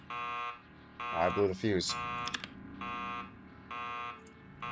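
Electronic alarm sounding a regular series of loud, evenly spaced buzzing beeps indoors, continuing while someone speaks briefly over it.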